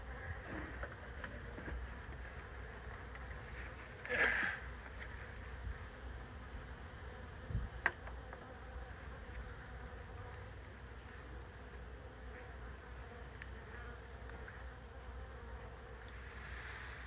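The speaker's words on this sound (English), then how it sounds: "All right, there's a bunch of bees." A swarm of bees drones in a low, steady buzz, faint and continuous, with a few closer insects passing by and a couple of brief knocks.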